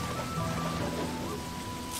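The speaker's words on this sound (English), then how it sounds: "there's too much water in here because of the rain" Rain falling in the video game Sakuna: Of Rice and Ruin, a steady dense hiss of rainfall with faint underlying tones, continuous and moderately quiet with no speech.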